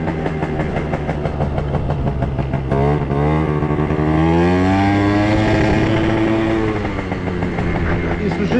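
Italjet scooter engine fitted with new carburettor jets, running steadily and loud up close, with rising and falling revs and a slightly uneven, stuttering note suggesting misfiring; no talking over it.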